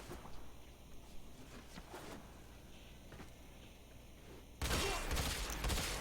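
Rapid bursts of corrosive primary-weapon gunfire from the video game Warframe crackle through a low game ambience, ending in a louder dense burst near the end.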